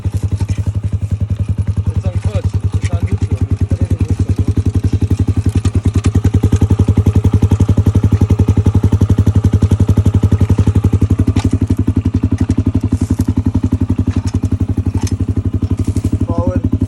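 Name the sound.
dirt bike engine idling in neutral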